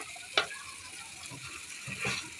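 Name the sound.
mashed olives frying in oil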